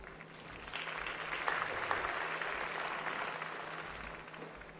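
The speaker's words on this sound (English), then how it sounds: "I thought they might be recalled with that ripple of applause going around the stadium" A ripple of applause spreads around a stadium during a women's 200 metres semi-final at the Commonwealth Games, a broad distant patter swelling and holding steady, with no voices on top.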